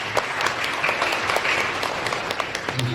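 Loud, close applause from an audience at an Indonesian small-business training event on food and coffee in Central Java, dense overlapping claps with a few sharper hands standing out, continuing steadily throughout.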